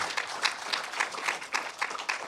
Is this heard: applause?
yes